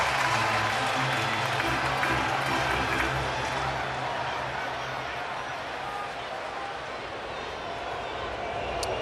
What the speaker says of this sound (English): And a Bronx cheer from the Astros fans.